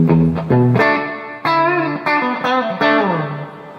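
An electric guitar plays through a Vox Bruno TB18C1 amp with digital reverb, a loud, slightly distorted run of sustained notes and chords, each phrase trailing into reverb.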